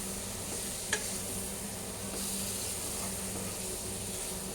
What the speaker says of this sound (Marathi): याला मस्त असं परतून घेऊया.